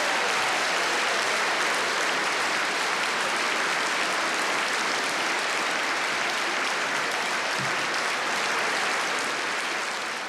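Audience applause at a public address by the Prime Minister, a broad, continuous wash of clapping from a large crowd holding steady throughout.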